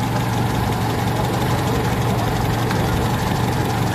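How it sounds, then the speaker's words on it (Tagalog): A second-hand owner-type jeep with a 4K engine idles steadily close by, a continuous rough, slightly knocking rumble that stays even throughout without any voices. "Ang ganda ng kondisyon ng makina ng 4K na to."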